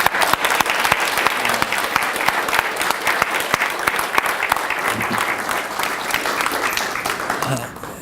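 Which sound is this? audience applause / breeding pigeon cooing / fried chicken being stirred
audience applause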